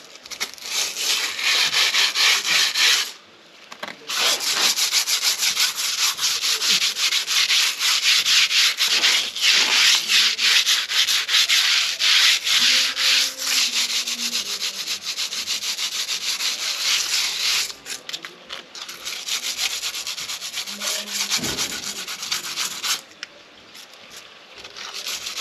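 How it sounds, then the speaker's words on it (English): Continuous sanding of a repaired concrete step that is not fully dry, a loud, steady rasping scrub close up with a couple of brief pauses, no talking. "All I'm going to do is give it a little sand because it's not fully dry yet."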